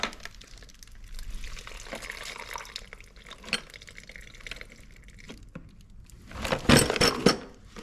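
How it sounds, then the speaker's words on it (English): Water draining and dripping out of a small toolbox on a Chinese AGROTK H12 mini excavator, intermittent trickles and drips with a louder gush of splashing near the end, faint and close with no talk. "Drain all that water out"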